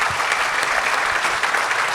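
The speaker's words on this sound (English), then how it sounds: "let's give my friend Christian Kennedy a round of applause." An audience at a men's homebuilder panel in a tent claps steadily together, a dense, even wash of applause filling the space for the whole moment without a voice over it.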